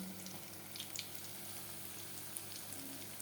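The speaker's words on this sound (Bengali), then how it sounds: "এই চটপট করে কটা ভেজে নেই" Eggplant fritters (beguni) frying in hot oil for a winter afternoon snack, giving a steady, close sizzle with small crackling pops and no voices.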